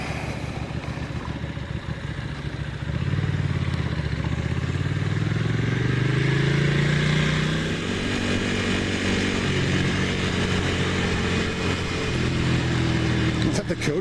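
A van passes at night on a street, its engine note rising and falling as it goes by, with steady road noise around it and no talk.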